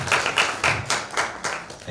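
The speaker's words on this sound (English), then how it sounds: "A big round of applause to you." An audience applauds with a round of clapping, a steady crowd of hand claps rising and falling in quick pulses for a couple of seconds.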